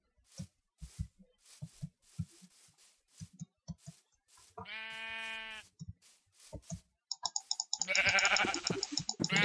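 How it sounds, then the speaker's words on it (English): Sheep in the Minecraft modpack Feed The Beast bleat once in a clear, buzzy mid-clip call, among soft game footsteps and clicks, followed by a busier burst of chiming game sound effects. "Dead sheep."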